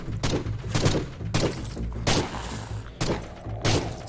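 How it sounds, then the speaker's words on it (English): Tommy gun firing in the video game Forgive Me Father, several bursts of rapid shots with heavy recoil thumps, loud and close, separated by short pauses. "I don't know how I feel about this Tommy gun just yet"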